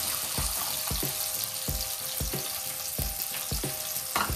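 Onions sizzle steadily in hot oil, with a utensil scraping the pan at irregular intervals as they are stirred.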